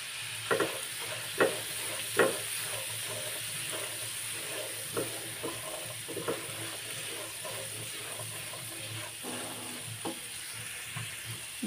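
Chickpeas with salt, turmeric, garlic and cumin frying in oil, a steady soft sizzle broken by several sharp scrapes of a spoon stirring the pan, close and moderately quiet.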